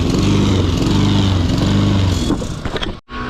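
A lawn mower's engine runs loud and close with a hard, throbbing pulse that wavers unevenly, then cuts out abruptly near the end before catching again.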